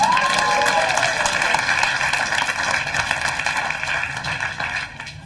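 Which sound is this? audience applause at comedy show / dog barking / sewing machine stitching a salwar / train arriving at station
audience applause at comedy show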